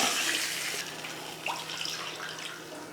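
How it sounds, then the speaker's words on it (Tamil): Two cups of water pour steadily into a cooking pot, a close, rushing splash that gradually softens over a few seconds. "ரெண்டு கப்பு வந்து தண்ணி சேர்த்துக்கிறேன்"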